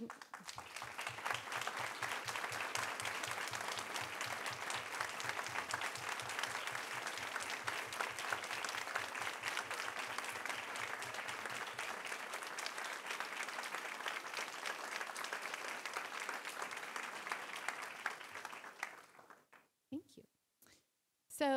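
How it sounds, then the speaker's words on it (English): A large audience at a parent meeting applauding steadily and loudly for about twenty seconds, a dense wash of clapping that fades out at the end. "I think you can tell from that round of applause"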